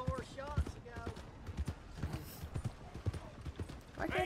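Horse hooves clip-clop in a steady trotting rhythm while riding in Red Dead Redemption 2, close and continuous, with someone talking over the hoofbeats.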